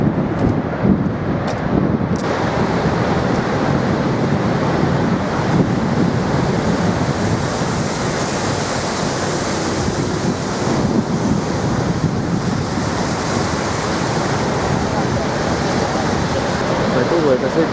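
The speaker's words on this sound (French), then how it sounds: "On entend le bruit des chutes en permanence." A constant loud roar of Niagara Falls, rushing, crashing water broad and unbroken throughout, with wind buffeting the microphone.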